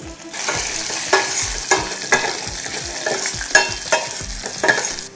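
Lentils, garlic and dried red chillies fry in hot oil in a pan, giving a steady close sizzle broken by repeated scraping stirs about every second.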